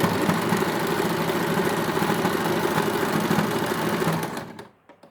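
Domestic sewing machine stitching lace trim onto a cotton suit, a steady close whirring hum that runs for about four seconds and then stops, leaving near silence.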